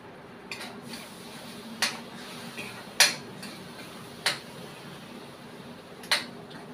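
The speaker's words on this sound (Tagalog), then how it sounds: "So, haluin natin" A utensil stirring squid adobo in a pan gives sparse, sharp metallic clinks at irregular intervals over a low background hiss.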